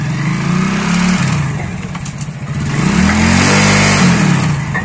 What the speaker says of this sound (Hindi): मैं आपको बाइक को चला के दिखाता हूँ इसके अंदर क्या प्रॉब्लम है